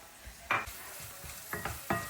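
Vegetables with corn and red chili flakes fry in a pan for pasta, with a soft sizzle under several quick scraping stirs.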